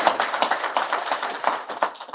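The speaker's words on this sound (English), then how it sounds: "Let's give them a hand of applause." An audience at the Football Association of Zambia annual general meeting, held at a hotel in Ndola, claps in a brisk, sustained round of applause. It sounds fairly close and stays steady, with no speech over it.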